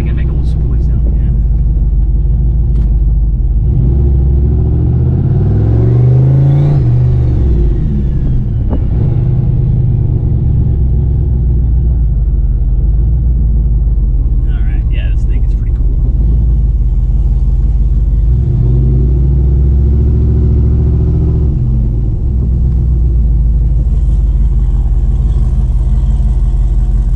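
A turbocharged Pontiac G8 GT, smoking badly, rumbles loudly at close range with a continuous deep engine drone. It swells into two rising revs with turbo spool, one early and one late.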